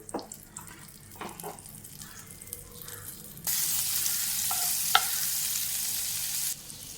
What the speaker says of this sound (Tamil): பாத்திரம் கடாய் காஞ்சிருச்சு. நான் பார்த்திங்கன்னா பட்டர் சேர்த்துக்கிறேன்